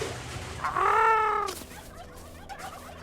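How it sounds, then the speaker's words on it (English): An ARK: Survival Evolved turkey lets out one loud, warbling gobble up close, followed by quieter rustling and a short shout from a person. "The turkeys, the army of turkeys!"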